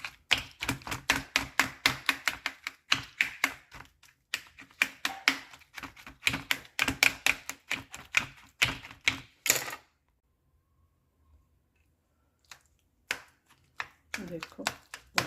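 Roasted eggplant is chopped into mince for Punjabi-style bharta, a knife striking a board in rapid, loud close chops that stop briefly, fall silent, then resume in a few scattered strokes.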